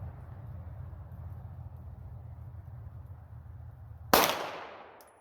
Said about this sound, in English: This is the non-ported barrel on the PSA dagger. We're going to shoot through the chronograph